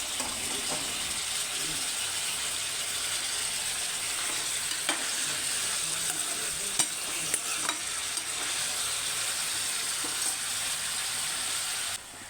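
Chopped onions and tomatoes fry in oil in a pan for a paneer curry, giving a steady, close, continuous sizzle with faint stirring scrapes and clicks throughout.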